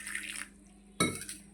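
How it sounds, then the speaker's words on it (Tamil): Water is poured into a cooking pot holding jaggery for urad dal payasam, a short splash and rattle against the metal after a brief clink, close and alone with no talking. "இந்த வெல்லத்தில் வந்து கொஞ்சமாக தண்ணி சேர்த்து"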